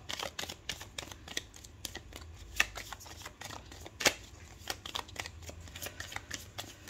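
Tarot cards are shuffled and drawn, giving a quiet, steady run of crisp riffling snaps and flicks up close, with a few sharper clicks.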